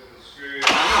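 A Toyota Supra Mk3 engine cranks with a whirring starter, then catches and fires into a loud roar at close range.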